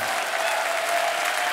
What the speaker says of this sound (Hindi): एक बार जोरदार तालियां हमारे मेहमानों के लिए